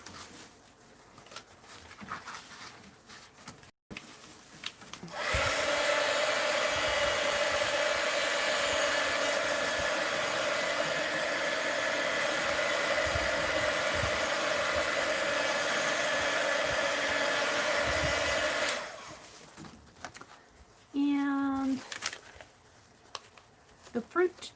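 A hair dryer blows steadily on wet paint in a mixed-media art journal, a loud continuous whoosh with a humming tone lasting about thirteen seconds before cutting off, with quieter handling sounds around it.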